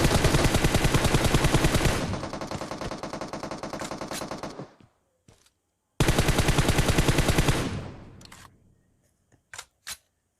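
Automatic gunfire in the battle royale video game PUBG, two long rapid bursts of shots that tail off, followed by a few isolated single shots, loud and close with no talking.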